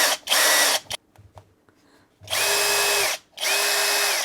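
Kobalt cordless impact driver, model 124B-3, running free at variable trigger speed: a loud, close whirring burst, a pause with faint handling noise, then two more steady high-pitched runs with smooth ramping up and down.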